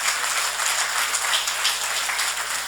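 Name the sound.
audience applause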